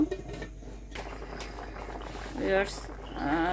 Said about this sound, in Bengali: দেখুন থকবক করছে।